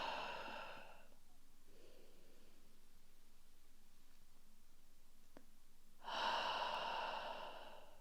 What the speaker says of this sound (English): Softly inhale, relax, exhale out.